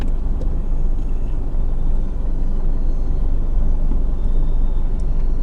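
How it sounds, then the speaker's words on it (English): A 4x4 car creeps down an off-road hill under hill descent control, giving a continuous low rumbling drone of engine and tyres at steady loudness with no talk. "So I've activated hill descent."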